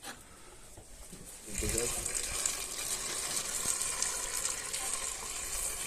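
Water poured into the cooling system of a BMW car under repair, a steady close gushing flow that starts after about a second and a half of quieter background noise and continues evenly to the end.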